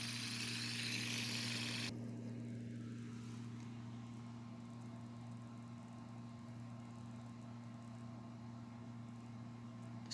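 A fidget spinner whirs continuously with a steady humming tone that goes on for a long time, heard close, with a hissy noise at the start that drops away after a couple of seconds.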